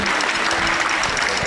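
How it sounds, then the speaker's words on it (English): Audience applause at a Tahitian dance competition, a dense, even burst of clapping from a crowd, loud and continuous for the whole moment. "How about a round of applause for our judges and Chief Miko?"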